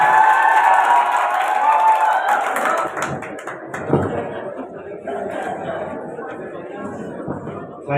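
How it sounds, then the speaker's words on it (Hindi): Students at a school Teacher's Day celebration cheer and clap for a teacher coming on stage. Loud crowd noise mixes with chatter and scattered claps, easing slightly midway. "प्लीज तालियां इनके लिए जोरदार।"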